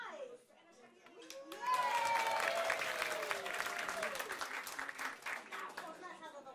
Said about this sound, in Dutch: dat we weer allemaal even klappen